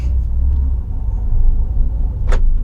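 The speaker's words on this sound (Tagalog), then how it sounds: "Maraming traffic." Heavy road traffic rumbles steadily at close range, a dense low drone of car and bus engines, with one vehicle hissing past near the end.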